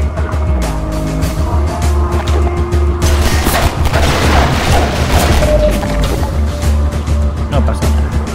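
Half-Life 2 game gunfire and explosions, aimed at explosive barrels, form a loud dense clatter of rapid shots and booms. It runs continuously over a droning engine-like rumble, with a heavier burst partway through.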